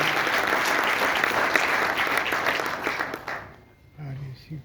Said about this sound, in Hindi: आपकी तालियों में थोड़ा जोश और आएगा